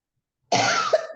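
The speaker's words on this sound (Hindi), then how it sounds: "अचानक से इतनी खांसी आ रही है कि बोलना भी नहीं आ रहा है" A woman, suddenly hit by a coughing fit, lets out a close, loud burst of coughing that starts abruptly and runs on with a rough, throaty sputter and a brief sharper hack near the end.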